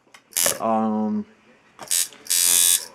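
Tattoo machine with new coils running at 5 volts, a loud close buzzing drone in two bursts, the second longer, with a harsh mechanical rattle.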